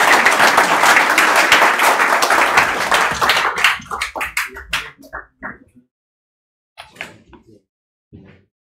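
An audience applauds after a technical kata presentation, loud dense clapping for about three seconds that thins into scattered individual claps and taps, trailing off into silence with a few final isolated claps.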